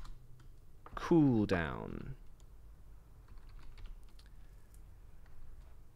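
Typing on a computer keyboard while coding a game in Scratch: light, faint key clicks scattered through the quiet, with one brief spoken word early on.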